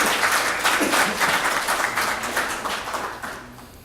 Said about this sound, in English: give them a round of applause for the legacy that they have left for each of us to follow.